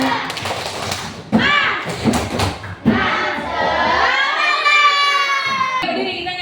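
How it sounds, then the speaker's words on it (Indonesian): Primary school children in a third-grade classroom doing a rhythmic clapping chant, sharp hand claps and thuds mixed with their chanting voices, followed by a group singing together. "Tepuk semangat"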